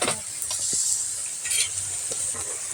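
Potato aloo tikki patties frying in a small amount of oil in a pan, a close, continuous bright sizzle with occasional soft clinks and scrapes.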